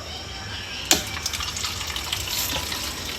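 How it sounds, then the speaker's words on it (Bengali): Water running from a tap into a bottle as it fills, a steady close hiss and gurgle with one sharp knock near the start, no talking. "এখন এই যে বোতলে জল ভরবো"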